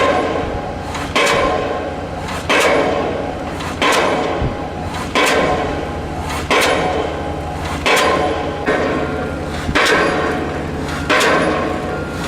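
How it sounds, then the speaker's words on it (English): Heavy, evenly spaced pounding blows about every second and a half from a diesel pile-driving hammer, each a loud metallic thump over a constant engine drone. "Is a diesel hammer"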